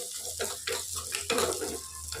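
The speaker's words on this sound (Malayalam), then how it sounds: "നമുക്ക് കുറച്ച് കാശ്മീരി ചില്ലിയും കൂടി ഇട്ടിട്ട് വരട്ടിയിട്ട് കറിയിൽ ചേർക്കാം" Kashmiri chilli frying in a pan for a curry crackles and sizzles in short bursts, with faint stirring sounds between them.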